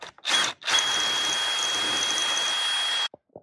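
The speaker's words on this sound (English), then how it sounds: "We're going to drill this one out as well." A power drill whines steadily up close as it drills out a rivet on a Roadtrek camper van, starting with a brief burst, then a longer continuous run before cutting off, followed by a couple of faint clicks.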